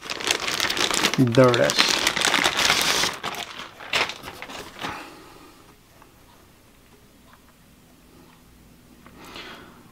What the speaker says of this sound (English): Let's take it out of this plastic bag.